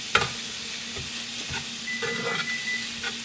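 Onions sizzle in an old 9-inch Griswold cast iron skillet with a steady crackle and hiss, up close. Scattered scrapes and light stirring knocks sound through it, and no one speaks.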